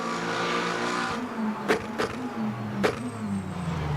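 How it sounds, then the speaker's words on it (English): A Lexus race car in Le Mans Ultimate howls with a loud, sustained engine tone, rising and falling through gear changes, with a few sharp bursts cutting in along the way. "Listen to that frickin' Lexus."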